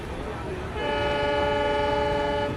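A train rumbles along, then its horn sounds a long, steady blast that holds to the end, fairly loud under a narrating voice.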